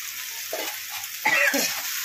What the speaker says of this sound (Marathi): आता हे बटाटा आपण मस्त फ्राय करायचा आहे।